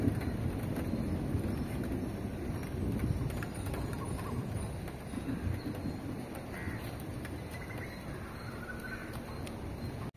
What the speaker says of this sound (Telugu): పెద్దదవుతుంది వర్షం.